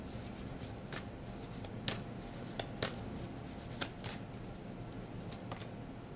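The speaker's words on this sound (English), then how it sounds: "let's go ahead and pull an oracle card" Soft rustling and crisp flicks of oracle cards being shuffled and a card pulled, close and quiet, with scattered sharper snaps over a steady faint hiss.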